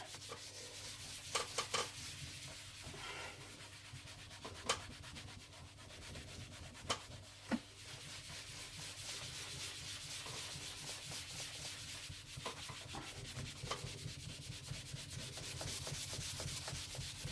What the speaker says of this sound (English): let's give it a buff before we put some wax on it